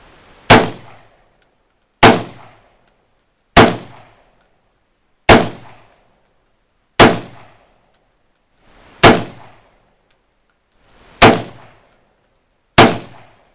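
A 1941 M1 Garand rifle fires eight reloaded .30-06 rounds, a series of loud, sharp, evenly spaced shots each ringing with a brief metallic ping. The shots fall roughly every one and a half seconds, with no talking.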